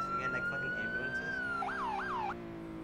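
An ambulance siren rolls past in a Fourth of July street parade, a steady rising tone that shifts into a two-cycle wailing yelp, moderately loud over a constant crowd-and-engine background.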